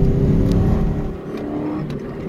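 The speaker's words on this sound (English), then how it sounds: "A little bit of tire slip there." A Nissan 240SX accelerates hard with a loud, close engine drone, its tires briefly slipping on the road, with a faint whirring whine over the revving.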